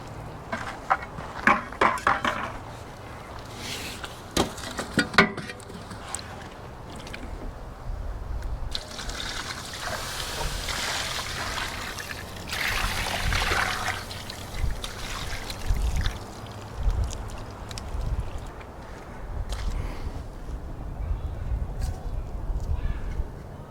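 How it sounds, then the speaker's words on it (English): Water being poured and stirred into a campfire to douse it, a steady liquid trickle and sloshing with crackling and hissing bursts through most of the clip, close and moderately loud. "Continue adding water, dirt,"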